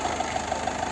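A 2022 Mahindra Scorpio Classic S11 idles with the air conditioning running, giving a steady, even engine hum with a faint rhythmic knock.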